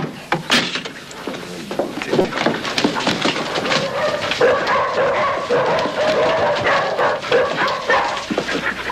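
A dog barks and yips repeatedly in an indoor scene from a 1964 film, sharp bursts scattered over murmuring voices and background noise.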